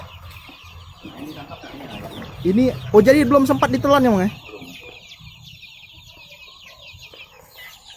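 Chickens in a village coop cluck and squawk, with one loud, harmonically rich burst of calls in the middle, while people talk nearby before and after.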